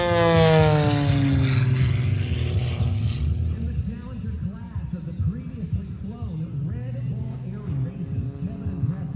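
A U.S. Navy Blue Angels jet passes overhead at the Thunder Over Louisiana airshow, a loud roar with a falling Doppler whine that fades to a rumble while crowd noise and talk carry on beneath it.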